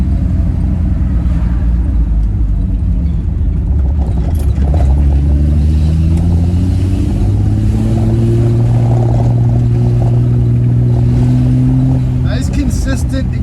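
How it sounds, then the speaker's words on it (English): Triumph TR6 engine with a steady, even exhaust note that rises and falls slightly as it pulls, droning continuously under a voice. "It's not popping and banging, just one consistent note"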